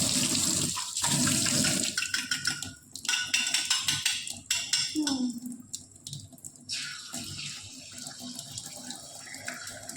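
A kitchen tap turned on while chow mein is being cooked, letting out loud, close running water that splashes unevenly and gurgles in bursts, then falls to a softer steady trickle.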